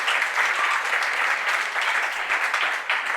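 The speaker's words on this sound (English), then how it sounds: "big round of applause if you've seen improv comedy before" Audience applause at a morning talk event before an improv comedy segment, a dense, continuous round of clapping at steady volume that fills the moment without any voices.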